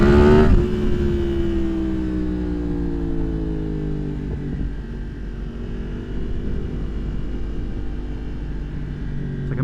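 A 2023 Yamaha MT-10 motorcycle fitted with a Leo Vince slip-on exhaust, ridden close by with a sharp rev at the start, then the engine note gliding down and settling into a steady cruising drone, no talk.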